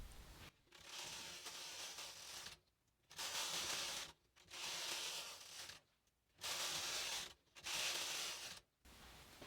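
A Brother 260 bulky knitting machine carriage swishes across the bed in repeated rows, each pass a loud rasping sweep followed by a brief silent pause, close up with no talking.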